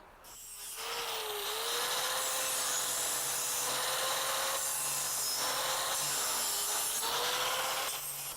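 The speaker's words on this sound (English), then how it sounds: "She's ready to grind right now." A power grinder works steadily against a welded metal sturgeon sculpture, starting up after a brief pause into a loud, continuous abrasive whine that holds for several seconds with slight pitch wobbles, close and alone.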